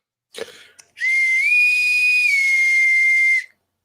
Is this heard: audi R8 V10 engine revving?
no